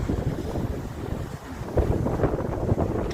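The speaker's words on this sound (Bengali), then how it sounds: "মাম্মা মিয়া, কি বাতাস, কি ঢেউ!" Strong wind buffets the microphone at a cold, rocky seashore in bad weather, with rough waves surging and crashing underneath in a continuous loud roar.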